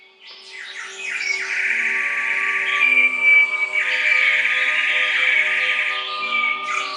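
A nightingale's song in a tabletop puppet theatre fairy tale rings out as a sustained, bright whistling warble with small trills, steady and fairly loud, with no voices.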